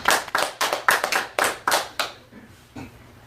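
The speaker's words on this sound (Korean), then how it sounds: "우리 하나님께 영광의 박수 한번 올리도록 하겠습니다" Church congregation claps hands together in a handful of sharp, rhythmic bursts, about eight loud claps in quick succession before trailing off into a few faint, scattered claps.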